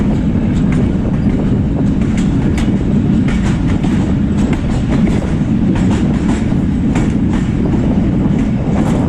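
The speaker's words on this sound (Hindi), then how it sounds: "धीमी धीमी जो चुगिंग है वो सुनाई दे रही है" Mehr Express passenger train running on the Rawalpindi to Multan line in Pakistan, heard from the last compartment far from the engine: a loud, steady rumble with continuous clickety-clack of wheels over rail joints, no voices.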